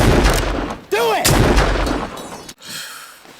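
Heavy gunfire and booming volleys from a Civil War battle scene in the 1989 film Glory, loud and close, a couple of sharp blasts with a brief tonal swoop between them, cut off abruptly near the end.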